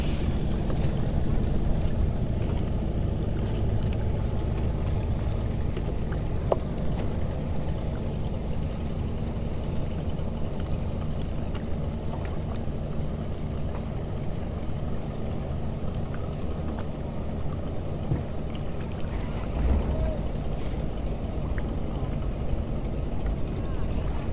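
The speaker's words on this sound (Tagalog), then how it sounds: "malakas na yung hangin" Steady strong wind buffets the microphone while lure casting from a boat at sea during the northeast monsoon, a continuous low roar of wind and water noise running the whole time with no talk.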